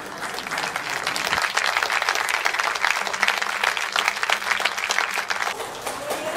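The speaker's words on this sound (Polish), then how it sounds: "Brawa dla pary młodej." Wedding guests clap for the newlyweds, a sustained, fairly close round of applause from a crowd, steady and unbroken for several seconds without talk over it.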